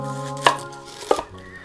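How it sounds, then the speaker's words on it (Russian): A knife chops onion finely on a board for kupaty sausages, two distinct sharp cuts about half a second apart, close and clear with no talking. "Лук лучше всего мелко нарезать ножом."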